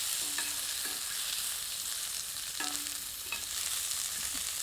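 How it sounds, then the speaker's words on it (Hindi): Kapoore fry in oil over high heat, giving a continuous bright sizzle with a few short clinks of stirring, loud and close, with no talk. "इस तेल में कपूरों को डालकर थोड़ा भूनते हैं।"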